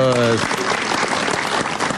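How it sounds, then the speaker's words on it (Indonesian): Audience applause for a group of women at an Indonesian talk-show style event, dense and steady throughout, with a voice speaking briefly at the start. "Tepuk tangan buat ibu-ibu semua."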